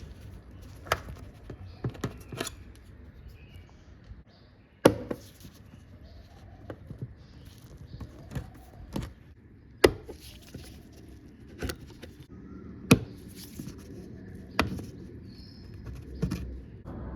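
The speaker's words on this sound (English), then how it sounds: "these push clips, just press them in and pull them out." Plastic push clips pressed in and pulled out of a Toyota Land Cruiser 100 Series rear door panel, sharp close clicks and snaps spaced a few seconds apart over a quiet background.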